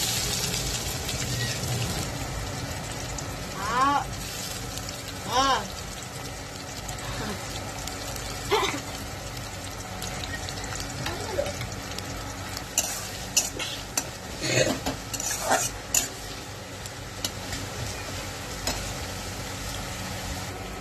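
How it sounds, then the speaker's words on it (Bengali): Whole cumin, a bay leaf and chopped onion sizzle in hot oil, a steady frying hiss with stirring scrapes and a few louder bursts as the onion goes in, fairly close and alone. "তেলে ফোড়ন দিচ্ছি গোটা জিরে আর একটা তেজপাতা। আর দিচ্ছি কুচানো পেঁয়াজ।"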